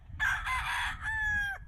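A rescued former cockfighting rooster crows once, a loud, close two-part call lasting over a second above a low background rumble.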